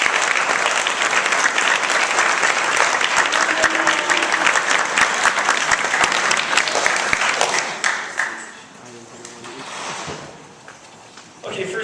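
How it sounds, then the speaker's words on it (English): A banquet crowd at a polo team awards night gives a long, full round of applause, thick and steady for several seconds before tapering off, with a voice beginning to speak as it fades. "Let's give them a round of applause, please."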